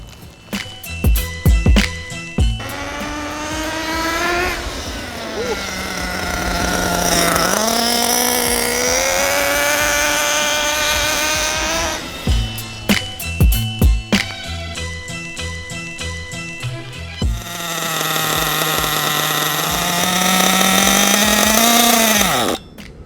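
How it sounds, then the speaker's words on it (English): A small nitro RC engine being broken in buzzes loudly, revving up and down in long rising and falling whines, with sputtering, crackling bursts between the revs. "you can hear the engine starting to sound a little bit better"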